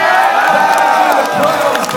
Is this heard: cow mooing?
no